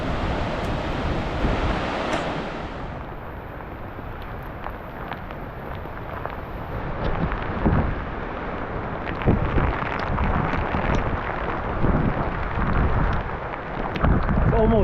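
Hail pelting down on a sub-arctic river in Labrador's Torngat Mountains, a steady dense patter layered over rushing big water and gusting wind, with voices talking over it.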